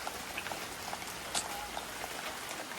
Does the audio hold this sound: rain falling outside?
yes